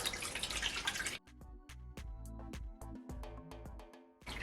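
Coconut milk drips through a kitchen strainer in scattered, uneven drops close by, with a brief wet pouring or squeezing rush at the start and end.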